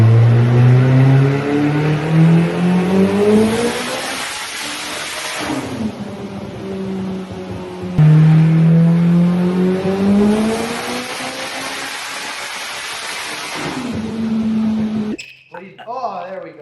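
A Honda K-swapped MR2 with a sequential transmission and Haltech control screams on a dyno, pulling hard through rising rev sweeps, dropping, then climbing again in a second loud, sustained run before cutting off; voices cheer near the end.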